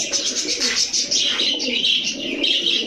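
Kashmiri racer pigeons coo in a steady rolling chorus, close and fairly loud, overlapping calls with a few chirps mixed in and no talk.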